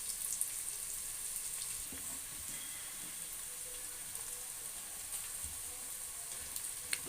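Ginger garlic paste sautés with softened onions in a pan as part of a vegetable biryani, giving a quiet, even sizzle that continues throughout.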